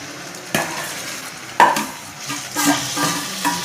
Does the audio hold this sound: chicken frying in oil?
yes